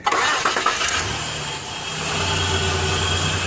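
A 1995 Nissan Pathfinder D21 cranks and fires up after an O2 sensor change and ECM code erase, the starter whirring briefly before the engine catches and settles into a steady, close idle.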